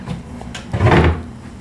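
A worn wooden cupboard door in a hotel room living area is opened or closed, a single near knock and scrape standing out over quiet room tone.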